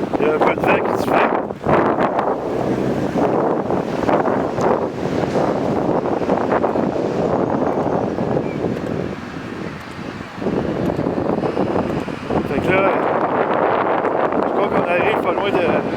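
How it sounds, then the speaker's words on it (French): Gusty wind buffets the microphone on a street during a road blockade in Drummondville, a loud, continuous rumble through most of the stretch that briefly dips before returning, with a voice talking over it. "Il y a un peu de vent qui se fait."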